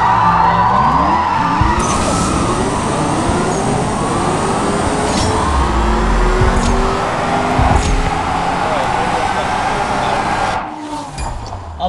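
Alfa Romeo Giulia GTAM racing in the CSR 2 Racing video game, a continuous loud engine roar with rising gear-shift sweeps and whooshes that cut off near the end.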